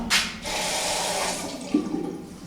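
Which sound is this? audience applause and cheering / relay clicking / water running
water running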